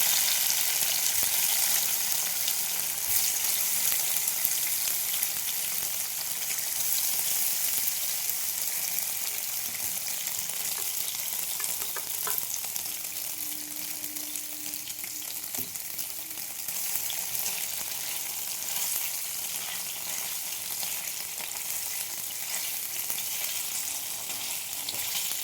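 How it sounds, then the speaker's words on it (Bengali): Paneer cubes fry in about two spoons of white oil in a pan, a steady close sizzle holding evenly through the whole stretch with no talk over it. "পনিরগুলো ভেজে নেব।"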